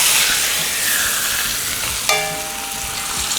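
A leg of lamb sears in a hot pan ahead of braising, giving a loud continuous sizzle close up, with a sharp clank partway through as it is flipped.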